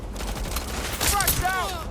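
Rapid bursts of gunfire from a Watch Dogs: Legion firefight, a steady dense crackle with brief whistling streaks near the end, loud and continuous across the moment.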